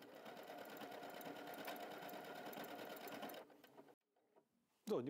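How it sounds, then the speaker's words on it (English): A W6 N 5000 Exklusive sewing machine stitches a decorative asterisk pattern in a steady, fast mechanical whirr, then slows, pauses and stops, followed by a brief clatter. "The machine did exactly as told. After the last asterisk, it backstitched."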